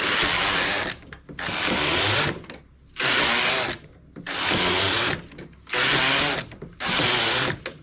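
A knitting machine working tubular, circular knitting with two yarns, its carriage passing back and forth in five loud, rasping runs, each about a second long and separated by brief quiet pauses, with no speech.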